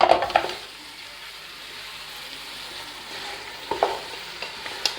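Goat trotters are added to a hot frying pan with green cardamom, giving a soft, steady sizzle with a few brief clatters of stirring near the start and end. No one speaks.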